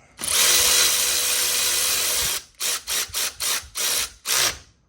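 Power tool tightening bolts on a BMW E46 during cam sensor work, a steady two-second run followed by six short, quick bursts, loud and close with no talking.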